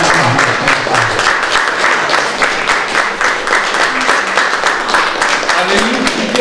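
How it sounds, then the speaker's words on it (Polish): An audience at a World Poetry Day event in a Polish community hall bursts into steady, loud applause, many hands clapping continuously, with voices talking over the clapping. "Brawa za Państwa."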